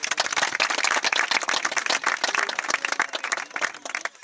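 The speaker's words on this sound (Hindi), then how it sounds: "जोरदार तालियां।" Loud, dense applause from a crowd at a Teachers' Day show on Bhopal's Lal Parade Ground, sustained rapid clapping throughout with no break, close and full.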